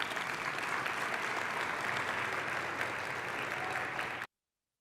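Sustained applause from a large keynote audience honoring the Utah Poet Laureate, a steady dense wash of many hands clapping at moderate distance, no voices, cutting off abruptly near the end.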